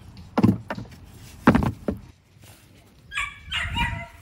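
A dog barks a few loud, close times in a garage during a DIY steering box replacement on a squarebody truck. The barks come in separate bursts with short pauses between them, followed by higher yips and whines.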